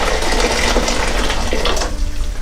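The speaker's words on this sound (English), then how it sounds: "So I'm just going to put one stock cube in a pan with a load of boiling water." Boiling water poured into a pan with a stock cube, a steady loud gushing and splashing stream lasting a couple of seconds, close by with no talking.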